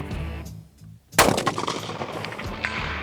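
A single loud rifle shot fired from a bag rest, a sharp close blast that follows a brief quiet moment and then rings out into a lingering echo.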